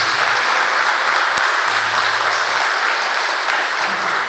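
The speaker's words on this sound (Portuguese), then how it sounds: "Quero que você aplaude o Senhor por isso." A church congregation applauds together, producing a continuous, loud, evenly textured roar of clapping hands that holds steady throughout with no speech on top.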